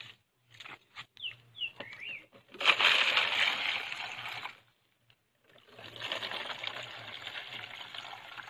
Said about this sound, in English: So now I'm going to add water.